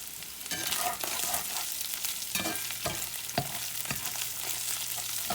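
Sausage and potatoes fry in a little oil with a steady crackling sizzle, while repeated scrapes and knocks of a spatula stir them in the pan.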